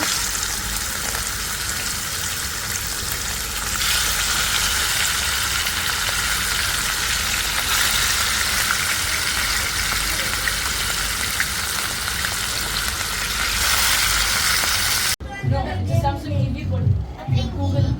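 Eggplant slices and hilsa fish fry in hot oil with a loud, steady sizzle for most of the stretch, then cut to a quieter scene with voices.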